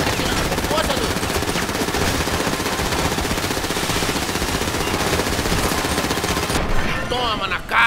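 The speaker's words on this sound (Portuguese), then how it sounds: "O cara tá atirando com força" Rapid automatic gunfire in GTA 5 during a police chase with a Mercedes G63, sustained loud bursts filling the whole stretch, with faint voices under the shooting.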